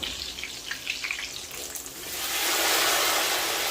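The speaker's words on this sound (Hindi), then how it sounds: "तो अभी इसको मैं तड़का लगा दूंगा।" Light crackling and spattering give way to a loud, steady hiss of hot oil tempering sizzling as it is poured onto Punjabi kadhi pakora, with no talking.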